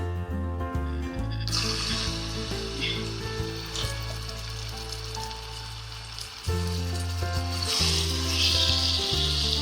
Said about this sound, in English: So in the same oil now we are going to add this marinated chicken.